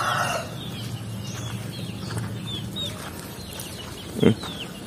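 Young broiler chickens in a native chicken farm pen, soft scattered peeps and clucks close by with one brief louder squawk near the end, over steady low farm background noise.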